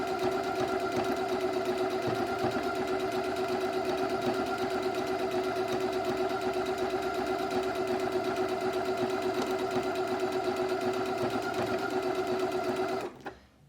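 Domestic sewing machine stitching an ajour fabric napkin, running as a loud, steady mechanical whir with a fast needle rhythm for about thirteen seconds before stopping abruptly.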